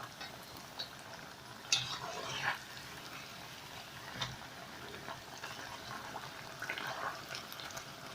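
Bhajias frying in hot oil as they are turned, a soft steady bubbling hiss with a few brief scraping and clinking touches from the turning, fairly quiet and close with no talk.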